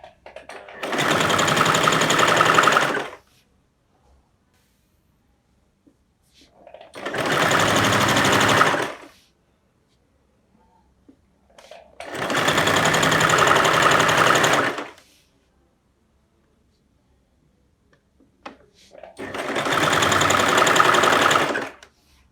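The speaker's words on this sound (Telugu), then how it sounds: "ఈ అంచులు, లేస్ ఇవన్నీ ఏంటంటే కొంచెం ఓపిక్గా నెమ్మదిగా స్టిచ్ చేసుకోవాలి" A sewing machine stitches lace edges onto an apron in four separate runs of steady, fast whirring, each lasting a few seconds and separated by quiet pauses.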